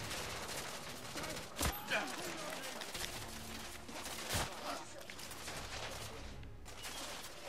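Gunfire in the video game The Order: 1886: a couple of distinct shots and some softer scattered reports, fairly quiet under near-constant talking and other game noise.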